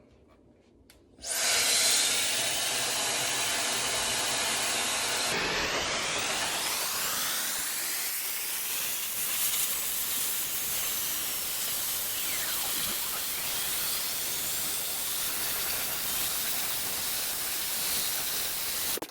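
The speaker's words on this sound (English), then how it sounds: "now that I've blow dried it to the shape that I want" A hair dryer blows steadily and loudly on straight hair, switching on after a brief quiet start and changing pitch partway through, then running continuously as the airflow shifts against the hair.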